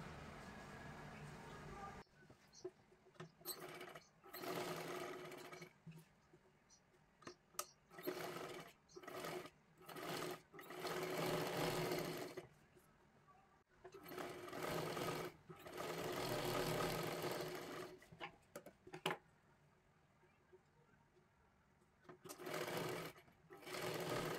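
A sewing machine stitching a blouse runs in repeated bursts of steady mechanical whirring, starting and stopping, with quiet pauses between runs and some talk nearby.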